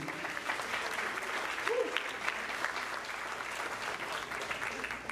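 An audience claps and cheers at a stage hypnosis show in São Paulo, steady applause filling the room for several seconds with scattered shouts in the crowd.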